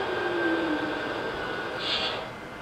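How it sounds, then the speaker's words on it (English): Shutdown sequence from the sound system of an SD80MAC model locomotive: a steady mechanical hum with a faint high whine, a brief falling tone and a soft hiss near the end, with no voices. "And finally, we'll play the shutdown sounds for you."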